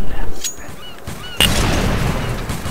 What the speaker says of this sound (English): My gun doesn't shoot fast enough!